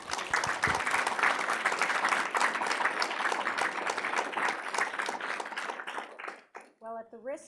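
An audience applauds a guest speaker at a formal institute event, a dense sustained wave of clapping that fades out near the end, where a voice begins speaking.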